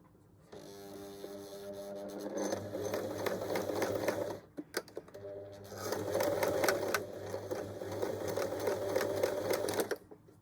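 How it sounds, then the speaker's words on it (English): A sewing machine stitches a zip onto a cushion cover, running in two steady bursts with a brief pause between, its fast mechanical clatter close and clear over a low motor hum. "We're going to start with a forward and back stitch to fix it in place and then carry on going."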